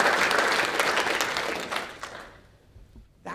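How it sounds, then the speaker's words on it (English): Steady clapping from a crowd that gradually thins and fades out over a few seconds, ending in near quiet. "can everybody give Jim a round of applause"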